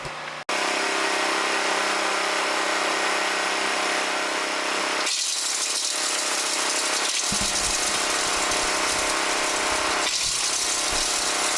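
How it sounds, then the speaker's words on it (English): A small flail mill grinds glassy silver smelt slag with a loud, continuous mechanical roar and rattle that starts abruptly and holds steady up close, shifting slightly in tone as the load changes. "this is our little flail mill"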